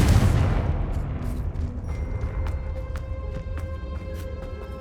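A Confringo blasting spell goes off in Hogwarts Legacy, a heavy low boom that rumbles and fades, followed by crackling debris and scattered sharp ticks.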